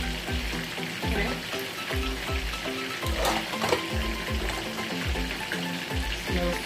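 Jamaican escovitch fish fries in a pan with a continuous close sizzle and crackle, steady throughout, with faint background music-like tones.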